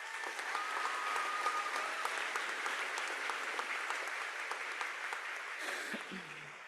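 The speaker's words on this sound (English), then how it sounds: "Let's give this class one more big round of applause." A crowd at North Bend High School's 2025 graduation ceremony applauds the class in a long, dense, steady round of clapping from a large gathering, tapering slightly before a brief closing sound near the end.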